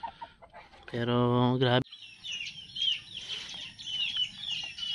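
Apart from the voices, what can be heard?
young rooster stag clucking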